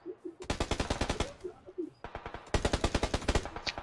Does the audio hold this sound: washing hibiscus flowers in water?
no